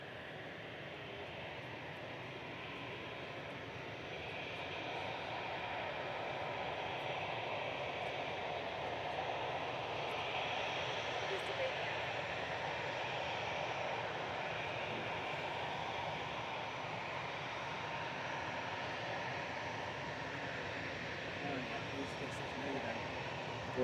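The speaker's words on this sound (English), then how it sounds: "EZUO departing to Geneva with flight 2185, A320 Classic." An EasyJet Airbus A320 Classic departs Manchester Airport for Geneva, its engines a steady broad roar that builds slightly and holds, heard from a distance with no talking over it.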